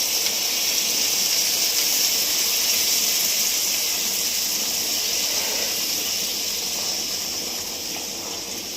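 Strained dal water hits a hot pan and sets off a loud, sustained steamy hiss that stays strong before easing slightly toward the end.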